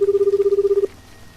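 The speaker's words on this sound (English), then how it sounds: "I pulled out my phone and called the police." A phone keypad dials the police, a rapid run of about a dozen loud, close, evenly spaced tones that cut off abruptly into near quiet.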